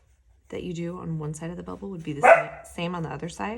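A female guard dog barks in a room while someone talks steadily over it, with a short burst of barking partly masked by her voice.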